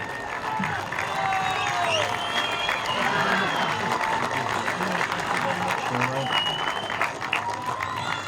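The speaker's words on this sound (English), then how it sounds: "Give him a round of applause." Sustained crowd applause at a youth baseball opening day fills the space, many hands clapping steadily with scattered cheers and voices mixed in.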